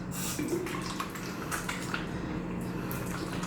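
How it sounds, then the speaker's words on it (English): Steady running water from a bathroom sink tap while hands are wetted, with a soft continuous splash and a few faint drips, fairly close and quiet. "So, wet your hands a bit."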